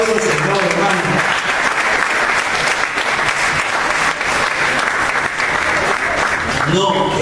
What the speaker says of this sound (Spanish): El aplauso al Señor, hermano